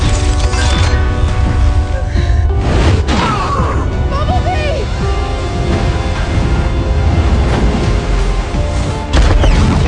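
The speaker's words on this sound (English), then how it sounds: "The devastating impact and explosion wiped Shatter out completely." A movie scene in which a giant alien robot and a ship surging on floodwater collide in a devastating impact and explosion, loud booming crash and rumbling debris with dense dramatic music, continuous and powerful throughout, with a second heavy hit near the end.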